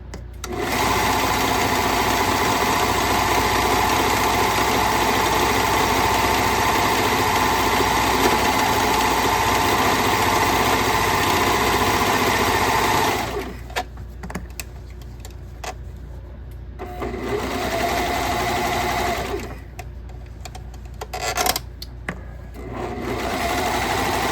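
A sewing machine stitches jeans being altered into shorts, running in a loud, steady, close whir for about thirteen seconds, then stopping and restarting in shorter bursts.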